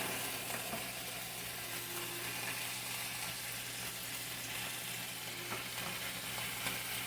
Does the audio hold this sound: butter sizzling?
yes